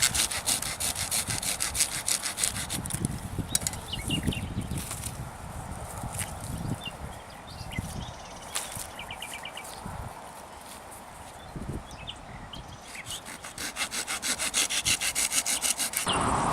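Wooden stems being sawn for a woven plant hammock: rapid back-and-forth rasping strokes come in bursts with short pauses and some handling knocks, close and fairly quiet, no talk.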